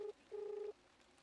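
A telephone number dialed on a keypad, a short beep and then a longer steady tone, quiet and clean with no talking.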